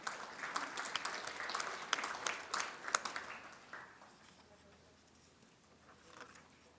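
Applause from a crowd at a collegiate livestock judging awards banquet rises as dense clapping, then thins out and fades into quiet room noise after about four seconds, with a brief smattering later.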